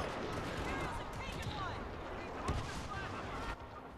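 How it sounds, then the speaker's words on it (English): Blaster and gun fire from a Star Wars shooter crackles in dense, continuous bursts as shots are sprayed wildly through a forest, with a heavier boom near the middle and someone talking over the action. "I'm just shooting wildly in the forest."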